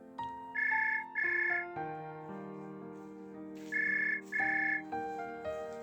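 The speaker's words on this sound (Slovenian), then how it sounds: "ko je zazvonil telefon" A telephone rings in a melodic ringtone pattern, bright repeated bursts in two pairs over a sustained musical background, fairly close and with no talk.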